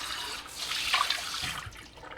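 Tap water rushing steadily from a faucet through a Vortopt T2 stainless steel faucet water filter, a close, continuous splashing hiss that swells briefly in the middle and then eases.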